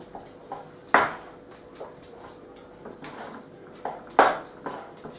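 A spoon mixes pizza dough in a bowl, knocking against the sides in irregular clinks and soft scrapes. Two sharper knocks stand out, and there is no talking.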